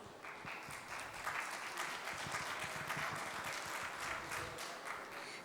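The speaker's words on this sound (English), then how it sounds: "Can we please give them a round of applause" An audience at a Forbes India debate session gives a sustained round of applause, dense steady clapping that fills the room for several seconds.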